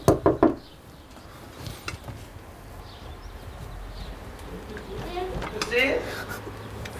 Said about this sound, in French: Je toque à la porte.